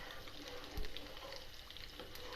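Semolina soaked in milk frying in desi ghee for makhandi halwa, a dense wet sizzle and bubbling that stays steady and close, with a single dull thump partway through.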